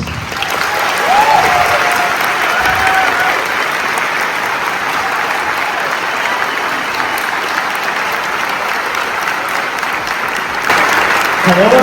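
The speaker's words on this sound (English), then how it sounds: "So if we could have a big round of applause" Big, steady round of applause from a school staff audience at a back-to-school kickoff assembly, filling the room loudly and evenly for about eleven seconds with no talk.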